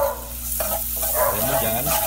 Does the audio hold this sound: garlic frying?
yes